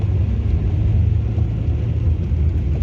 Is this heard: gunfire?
no